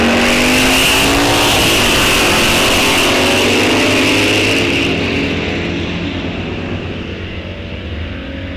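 Mopar drag race cars roar loudly down the track at a raceway, a sustained engine howl with rising revs and some tire squeal, then fading away into the distance.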